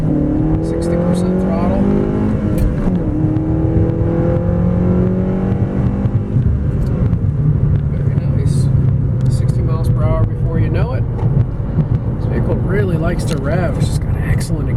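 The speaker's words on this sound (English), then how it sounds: "exhaust note. Gosh, that really woke me up." A 2014 Honda Civic Si engine revs under throttle, its exhaust rising and falling in pitch with a loud, raspy roar, while people talk over it.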